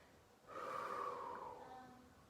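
A long, steady exhale lasting nearly two seconds during a core and pelvic floor exercise, breathy with a faint voiced tone, close and fairly soft.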